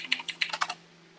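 Rapid, forceful keystrokes on a computer keyboard, about eight sharp clacks in a quick burst close to the mic, then quiet with a low steady hum underneath.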